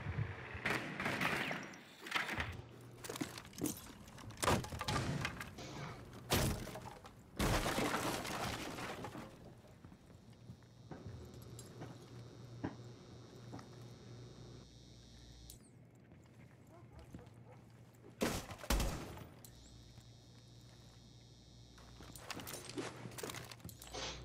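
Gunfire rattles in a multiplayer shooter game, scattered bursts and single shots of varying loudness, some close and sharp, others distant, with quieter stretches of ambient background in between.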